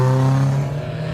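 A hillclimb race car crosses the finish line in a loud, close engine note that sustains and then drops slightly in pitch as it passes, short and alone.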